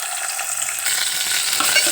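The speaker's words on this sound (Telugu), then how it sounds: "ఉల్లిపాయలు, పచ్చిమిరపకాయలు వేసిన తర్వాత ఇలా బాగా కలుపుకుందాము." Chopped onions and green chillies fry in hot oil while being stirred, a close, loud, continuous crackling sizzle with scraping stirs, no voices.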